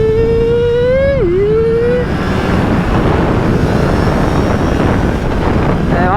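A Triumph Trident 660 motorcycle is ridden with its engine note climbing and dipping through a gear change, then turning into loud, steady wind roar that fills the sound close to the rider's helmet.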